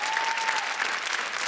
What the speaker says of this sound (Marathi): मला आवर्जून एकदा जोरदार सगळ्यांच्या टाळ्या पाहिजेत सिद्ध्यासाठी